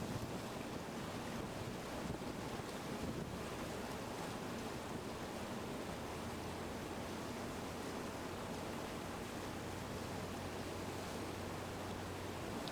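Ocean surf crashes and roars continuously around a raft while raft surfing, a dense wash of water noise with heavy wind buffeting the microphone and no talking.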